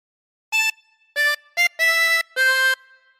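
A harmonica plays a phrase of Pop Goes the Weasel as five separate blown and drawn notes, short and then longer, clear and close with no talking.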